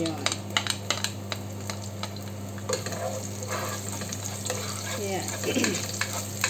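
Garlic and onion sizzling steadily in a pan while being stirred, with scraping and light clinks of utensil on metal under a constant hiss. A voice speaks briefly.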